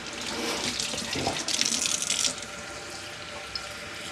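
Tap water running steadily for houseplant watering, a close hissing flow that swells briefly louder midway before settling back, with no talking.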